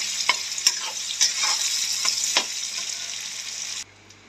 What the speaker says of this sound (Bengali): এখন পেঁয়াজগুলো দিয়ে দিলাম। পেঁয়াজটা লাল লাল করে ভাজা হবে।